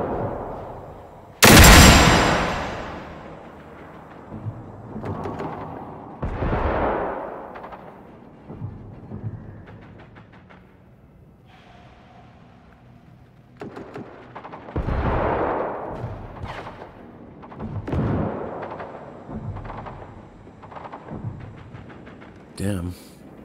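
Robot firing rockets in the video game Generation Zero, with a loud sharp blast early on and further booming launches and rumbles spread through the scene while people talk over it.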